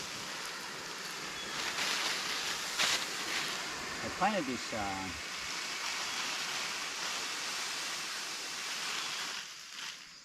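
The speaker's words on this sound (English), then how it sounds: "Nothing like having running water to water your apple trees." Steady broadband rush of running water from a micro hydro penstock used to water young apple trees, loud and continuous throughout, with someone talking briefly over it midway.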